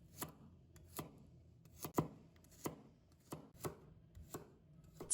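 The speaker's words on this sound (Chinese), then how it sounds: "把大蒜切成粒。" A knife chops garlic into small pieces on a board, giving about ten sharp, evenly spaced knocks over a few seconds, close and fairly quiet, with no talk.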